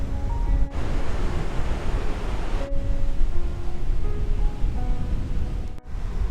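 Strong wind buffets the microphone in a constant roaring rush, with brief dropouts and faint tonal whistles, loud and close throughout.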